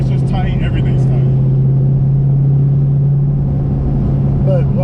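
An 800 wheel-horsepower Dodge Hellcat accelerating straight gives a loud, steady low engine drone inside the cabin, constant throughout, with people talking over it.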